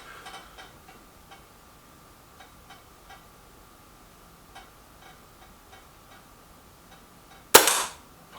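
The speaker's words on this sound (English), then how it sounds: "The Leviathan, however, didn't do well with his first shot" A single sharp air rifle shot rings out near the end of a shooting match between a Kral Nish and a Nova Vista Leviathan, loud and sudden after several seconds of quiet background with faint ticks.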